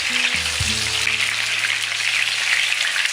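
Pointed gourd (potol) pieces frying in hot oil, a steady loud sizzle filling the whole clip, with a brief low hum and knock early on.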